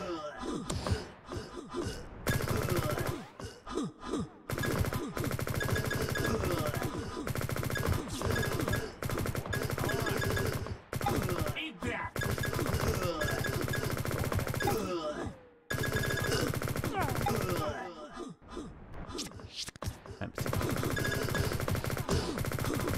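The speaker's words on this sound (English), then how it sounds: "SMG is no good at long range." Rapid SMG bursts crackle in the open-source online FPS Liblast, dense repeated volleys broken by brief silences, with gasps and a player speaking between shots.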